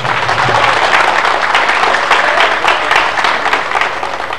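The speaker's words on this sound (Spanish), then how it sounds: "Fuertes los aplausos." A large crowd on a La Paz avenue applauds for Evo Morales at a mining federation's 50th anniversary celebration, loud sustained clapping that stays dense and steady throughout, without speech.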